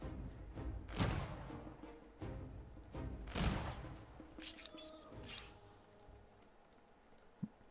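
Infantry fire in an Industrial Era strategy video game comes as several sharp bursts of shots spaced a second or two apart, followed by quieter clicks and a single sharp crack near the end.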